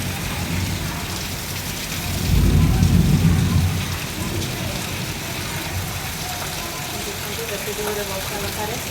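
Steady rain falls outdoors with a low rumble of thunder swelling in the middle, loud and close, over a continuous wash of rainfall.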